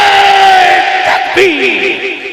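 Crowd at an Urs gathering shouting back in unison after a Naara-e-Haidari slogan, a loud massed roar of voices that swells, dips and rises again.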